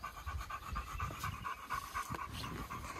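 A dog pants steadily in rapid, rhythmic breaths, close and fairly quiet, alone with no talk, after a bout of play outdoors.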